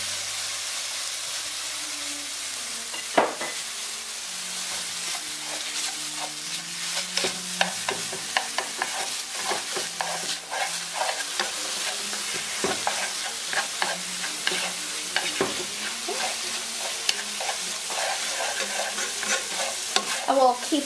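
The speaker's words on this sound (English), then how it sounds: "And we'll keep on frying this up until all of the pork is cooked." Pork filling for banh cuon sizzles and fries in a pan with soy and oyster sauce, a steady loud hiss broken by frequent scraping stirs and clacks of the utensil, with no talk.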